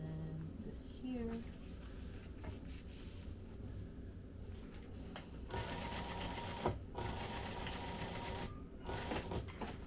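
A sewing machine stitches a crossbody bag, whirring steadily up close throughout. The motor pitch shifts partway through, and faint room noise sits underneath.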